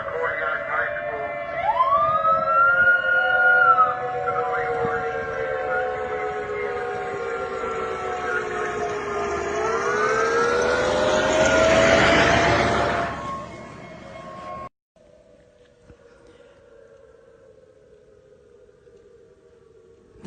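Tsunami warning siren wailing across Kodiak, Alaska after an 8.0 earthquake, a loud rising and falling tone sweeping over outdoor noise before cutting off abruptly, leaving a faint lingering hum.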